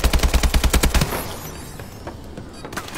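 Fast automatic gunfire striking the player in Call of Duty: Advanced Warfare, a tight rhythmic burst of loud shots for about a second, then fading into scattered distant pops and game ambience.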